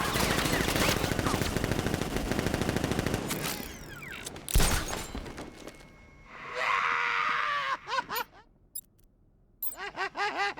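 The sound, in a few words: gunfire from militia ambush in Batman Arkham Knight video game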